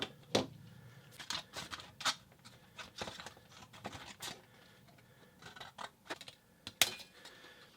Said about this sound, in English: You can just use regular scissors.